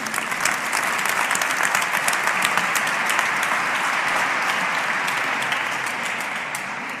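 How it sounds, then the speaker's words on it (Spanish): An audience at a ministry event bursts into steady applause for the moderator, close and loud clapping with sharp hand strikes that runs the whole time and tapers slightly near the end. "Un aplauso también para José Miguel."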